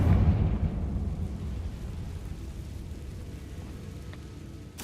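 An explosive Confringo spell from Hogwarts Legacy goes off as a heavy, low boom that starts loud and rumbles away over several seconds, followed by a sharp new hit at the very end, with no speech.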